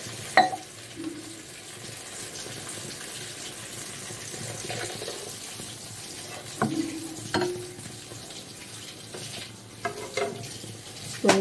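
Water poured into a pan of frying potatoes, a steady sizzle and stir with a sharp hiss bursting up as the liquid hits the hot oil, repeated a few times near the pan.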